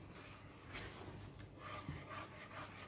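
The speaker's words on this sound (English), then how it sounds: "Still using the whisk." Chocolate self-saucing pudding batter of flour and milk being whisked in a bowl, giving faint, steady rubbing and scraping strokes with no talking.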